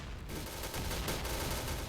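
Rapid bursts of gunfire from the video game Point Blank in Chaos mode, dense and continuous, with loud crackling shots layered over one another.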